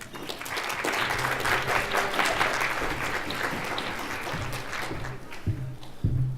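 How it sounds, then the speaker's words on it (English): Steady applause from a sizable conference audience welcoming a speaker, sustained clapping that holds for several seconds before thinning out near the end. "please give a welcoming round of applause for Tim Huang"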